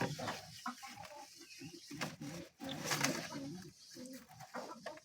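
Giribaz pigeons in a loft, a hen among them brooding two eggs, give low repeated cooing with soft wing rustles and shuffling close by, steady through the whole stretch with brief pauses.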